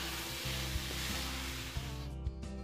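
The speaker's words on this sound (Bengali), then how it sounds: "দিয়ে এটাকে একটু ভালোভাবে নাড়াচাড়া করবো।" Mutton frying in a pan with poppy seed and mustard paste, giving a steady loud sizzle while a utensil stirs and scrapes in a few soft knocks.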